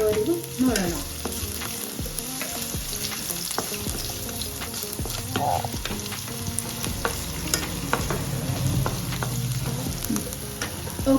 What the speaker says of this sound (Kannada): ಎಣ್ಣೆ ಕಾಯ್ದಾದ್ಮೇಲೆ ಶುಂಠಿ ಬೆಳ್ಳುಳ್ಳಿ ಜಜ್ಜಿಟ್ಕೊಂಡಿರೋದನ್ನ ಹಾಕ್ತಾ ಇದ್ದೀನಿ